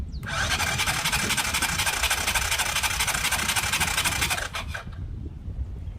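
The engine of a Honda three-wheeler cranks on its starter during a compression test, making a steady, loud, buzzing churn for about four seconds before it cuts off into quieter rumble.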